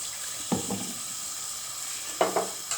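Tomato concentrate is stirred into a simmering tomato sauce for meatballs and pasta, a steady low bubbling hiss broken by a few soft scraping strokes of the spoon, no voices.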